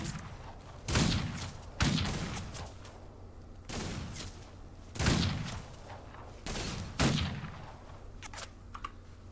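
Gunfire in the Western shooter game Outlaws of the Old West, heard as sharp single shots and short volleys spaced a second or two apart, each followed by a short booming tail, against a steady game background with no talk.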